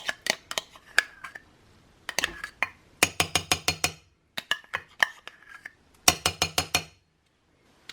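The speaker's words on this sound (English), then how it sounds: "gently give everything a mix together" A spoon clinks repeatedly against a glass while overnight oats with plain natural yogurt are stirred, with bursts of quick, bright taps separated by short pauses, close and fairly quiet.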